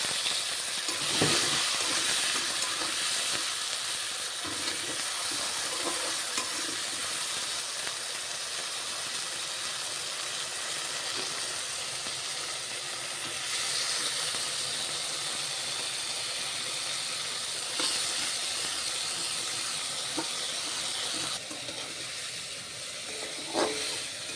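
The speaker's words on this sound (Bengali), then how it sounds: "এবার দিয়ে দেওয়া হবে পেঁয়াজ একবারে আলু পেঁয়াজ একসাথেই ভাজা হয়ে যাবে" Potatoes and onions frying together in a pan for a tangra fish curry give a steady, loud hiss and sizzle throughout, with occasional faint clinks and no talking.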